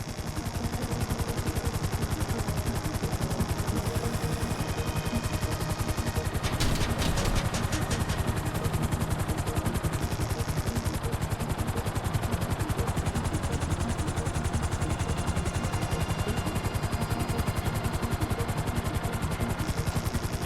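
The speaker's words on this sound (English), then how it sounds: "Hover above so I can shoot down into it." Sustained gunfire rattles from a helicopter hovering over an excavation site in GTA 5, with the rotor's constant drone underneath. The shots run in long continuous bursts, loud and close, with a sharper burst partway through.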